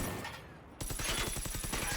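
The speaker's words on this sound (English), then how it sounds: "So the pillbox is already shooting at them." A pillbox turret in the game Generation Zero lets loose a rapid burst of automatic gunfire, with tightly spaced shots that rattle on loud and close after a brief lull.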